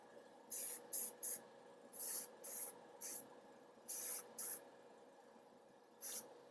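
An airbrush laying a base coat onto miniatures gives short bursts of airy, hissing spray, about a dozen pulses of roughly half a second each, close but quiet over a faint hum.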